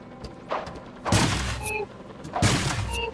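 Robots with guns open fire in the video game Bears In Space, producing two short, loud bursts of gunfire about a second apart over a low game background.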